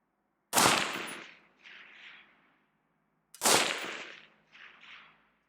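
Two rifle shots fired one after another at a 420-yard steel target on a calm, windless range, using an EOTech holographic sight with magnifier; each sharp loud crack is followed by a fainter delayed return from the distant target.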